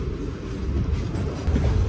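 An Intercity Superfast Express train rolls slowly into Ichchapuram railway station. Steady low rumbling runs throughout with some wind buffeting and no talk.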